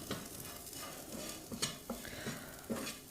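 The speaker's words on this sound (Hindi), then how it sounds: "मैगी मसाला हमें लास्ट में डालना है और इसको अच्छे से भून लेना है" Maggi masala is roasted and stirred in a pan for a quick breakfast dish: soft, irregular scraping strokes of a spoon over a low, steady sizzle, with no one talking.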